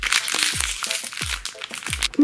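A plastic packet of eraser collectible toys is torn open, crackling and crinkling loudly and close in bursts for a couple of seconds.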